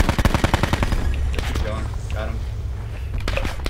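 Rapid bursts of gunfire from a Call of Duty Blackout match, a dense volley of close shots at the start followed by scattered single shots while a player talks throughout.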